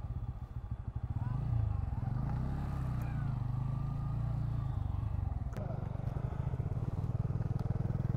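An N160 motorcycle on a long ride rumbles up in pitch as it accelerates, then holds a steady engine drone with wind noise, fairly close.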